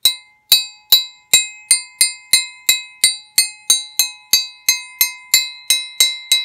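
A hard vintage 1920s steel Dasco Eagle Claw #302 wrench rings out with bright, glassy clinks, about fifteen evenly spaced strikes each with a short metallic ring, close and loud with no talking.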